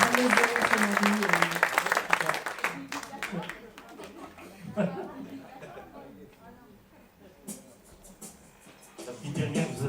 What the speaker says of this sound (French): On va applaudir, hein